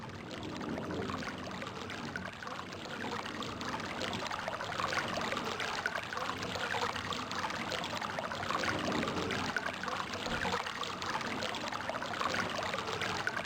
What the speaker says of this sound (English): all I hear is water